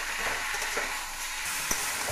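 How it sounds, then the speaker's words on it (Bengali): Pumpkin stems stir-fried with turmeric and salt in a pan give a steady, close sizzle, with soft scraping stir strokes throughout and one sharp tap of the spatula near the end. "হলুদ এবং লবণ দিয়ে আমি মশলাটাকে এই সবজির সঙ্গে ভালো করে কষিয়ে নেব।"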